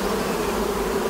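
Honeybees buzz in a mountain apiary, a dense, steady hum of many beating wings, close and continuous with no voices.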